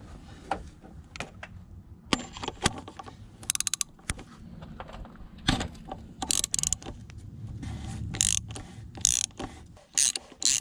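Repeated bursts of ratcheting clicks from a hand tool tightening a bolt on a BMW 325 TDS, with metallic clacks and pauses between short rapid runs, close up.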